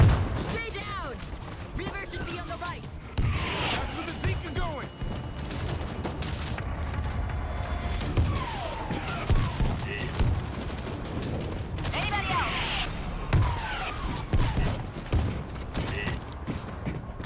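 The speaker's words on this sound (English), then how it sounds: "Army shelling the street!" Artillery shelling pounds a street in the video game World War Z, a run of heavy booms and rapid bursts of gunfire under steady game noise while a voice talks over the barrage.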